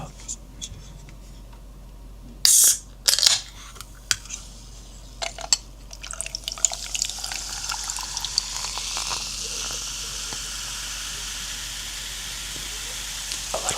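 Dr Pepper is poured from a can into a glass of ice: a sharp clink of ice, then a growing fizzy hiss of carbonation that builds and holds steady, close and clear.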